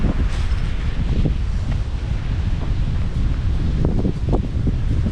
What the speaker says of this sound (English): Wind's starting to pick up again as we get back to a higher elevation